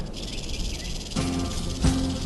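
A rattlesnake sounds its warning rattle as a steady, dry buzzing hiss that continues throughout, close and fairly loud, with a few brief thumps in the background.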